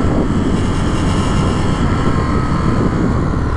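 A 2022 Indian FTR R Carbon 1200 motorcycle pulls away from a stop. A loud, continuous engine roar is heard close up, mixed with heavy wind rush.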